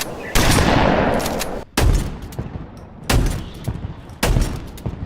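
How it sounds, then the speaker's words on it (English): Old Halo shotgun fired in a video game, four heavy booming blasts spaced about a second and a half apart, each loud and close with a long decaying tail, no voices. "it doesn't even compare to the old Halo shotgun we all know and love"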